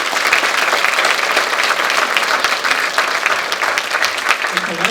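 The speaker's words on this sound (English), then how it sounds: "give a big round of applause" A crowd at a senior volunteer recognition breakfast in Putnam County gives a big round of applause, loud, dense, continuous clapping from many people that fills the room for the full five seconds.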